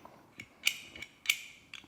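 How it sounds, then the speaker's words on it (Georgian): Heckler & Koch P30 pistol, a tilting-barrel design, with its barrel shifting inside the slide at a gun shop: a few sharp metallic clicks spaced out, close and fairly quiet, with no talking. "აი ესე მოძრაობს ლულა."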